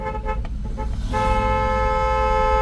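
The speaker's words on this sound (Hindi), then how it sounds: "ओवरटेक करने से पहले 50 मीटर पहले उसको ऐसे हॉर्न देना" A car horn blares in a long steady honk before overtaking on the road, starting partway in, over the low rumble of an engine.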